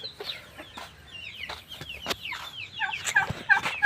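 Chickens at a coop cluck and squawk in a run of overlapping calls, with sharp short cries and softer clucks scattered close by at moderate loudness.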